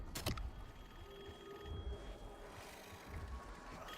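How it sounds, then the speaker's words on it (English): A phone rings faintly in the Call of Duty: Black Ops zombies map, a thin repeated ringing tone half buried under low rumbling game ambience, with no speech. "There's my phone."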